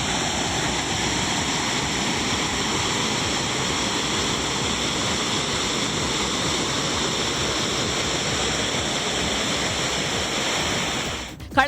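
Kalakkad Thalaiyanai waterfall pours with heavy flow, a loud, continuous roar of rushing water that stays steady throughout before a brief bump of handling noise at the very end.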